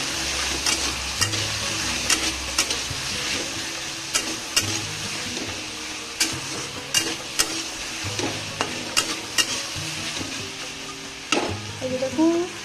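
Taro (kochu) fries in a pan with a steady sizzle, broken by periodic sharp scrapes and knocks of a spatula stirring, close and consistent throughout with no voices.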